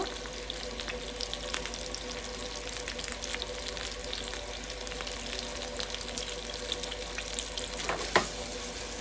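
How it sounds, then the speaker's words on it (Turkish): Minced-meat meatballs fry in a pan with a steady, dense sizzle that runs unbroken throughout. A brief clink sounds near the end. "O yüzden köftelerinizi güzelce kızartmanız gerekiyor."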